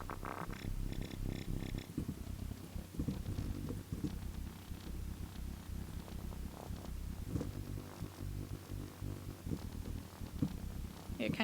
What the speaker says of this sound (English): let's try adding some filter modulation just to hear what it sounds like with the LFOs